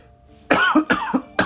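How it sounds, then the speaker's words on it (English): A person coughs three or four times in quick succession, close and loud, in a garage while working on a 2019 Honda Civic Si transmission. "Don't mind my cough."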